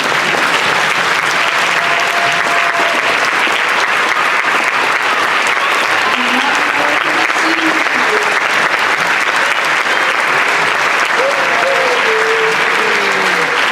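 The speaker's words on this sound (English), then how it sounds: "can we get one more round of applause" An audience at an orchestra concert and senior farewell claps in a dense, sustained round of applause that holds steady and loud throughout, with a few faint voices and whoops mixed into the crowd.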